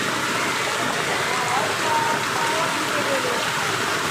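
Heavy rain and floodwater wash steadily around a flooded house, a continuous broadband hiss of falling and running water that stays loud and even throughout.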